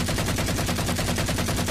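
Rapid full-auto gunfire bursts continuously in a dense, loud stream of closely spaced shots with no talking.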